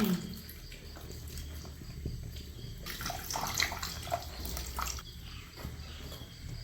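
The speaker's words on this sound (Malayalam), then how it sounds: "ഇനി നമുക്ക് പുളിവെള്ളം ഒഴിച്ചു കൊടുക്കാം കേട്ടാ" Tamarind water poured into a cooking pot during a night-time home cooking session, a continuous splashing stream with small drips, fairly close, over busy kitchen background noise.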